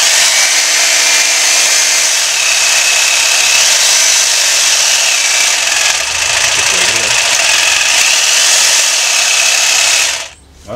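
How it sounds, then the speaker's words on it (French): A Parkside jigsaw cuts through wood with a loud, steady motor whine and buzzing blade that runs unbroken for about ten seconds, then cuts out abruptly. "Ça reste une scie sauteuse."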